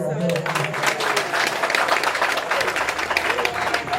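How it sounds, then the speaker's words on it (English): Applause from an audience at a hotel opening in Akure, a steady patter of clapping with voices mixed underneath, moderately loud for a few seconds. "Give me a round of applause"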